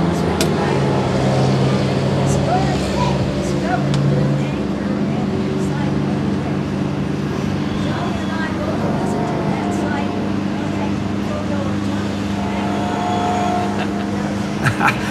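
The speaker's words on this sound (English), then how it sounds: "I can't really hear because of the buses" Buses rumble past outdoors in a steady, loud, low engine drone that persists throughout, with people talking over the traffic noise.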